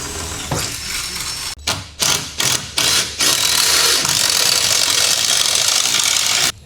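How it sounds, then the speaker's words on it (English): A drill with a 1/4 inch bit bores through metal, starting and stopping in several short bursts before running steadily and loudly until it cuts out at the end. "he's going to drill with a bit, guys, and then a step bit to clean the hole"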